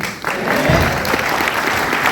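Seminar audience breaks into applause, a dense burst of clapping filling the room for a couple of seconds, with a voice faintly audible beneath it.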